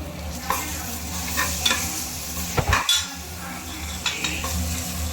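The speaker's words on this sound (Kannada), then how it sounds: "ಶುಂಠಿ ಬೆಳ್ಳುಳ್ಳಿ ಪೇಸ್ಟ್ ಹಾಕಿ ಚೆನ್ನಾಗಿ ಫ್ರೈ ಮಾಡಬೇಕು" Ginger garlic paste fries with onions in a pan, a steady sizzle under repeated stirring scrapes and metallic clinks of a spoon against the pan, close and alone.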